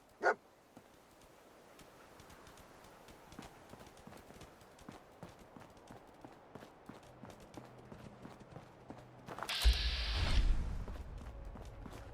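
Dogmeat, the dog companion in the video game Fallout 4, gives a short sharp bark at the start, followed by quiet rhythmic footsteps and a louder burst of game noise near the end.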